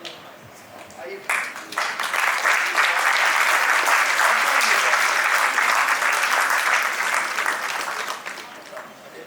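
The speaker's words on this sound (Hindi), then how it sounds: "जोरदार तालियों से।" An audience at an Indian honouring ceremony breaks into loud, sustained applause that swells quickly and holds for several seconds before tapering, with a voice faintly audible underneath.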